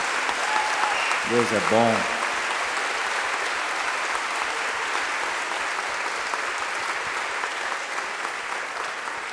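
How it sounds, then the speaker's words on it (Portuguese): A church congregation applauds, and the steady clapping runs throughout the clip. A voice briefly speaks early on over the applause. "Você pode aplaudir o Senhor mais uma vez."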